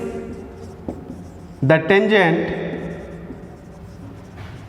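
Chalk scratches and taps on a board during a lecture about tangents to a circle, with a brief burst of rapid squeaky strokes in the middle and a voice faintly present.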